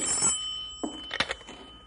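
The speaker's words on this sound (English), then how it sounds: "You want me to get the phone, Bill?" A telephone rings in a ranger headquarters office, with a bright trilling ring at the start followed by a few sharp clattering knocks and clicks, close and clear with no talking.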